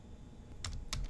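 A keyboard shortcut is typed on a computer keyboard while working in Excel, two or three quick crisp key clicks in the second half over a low room hum, quiet and close.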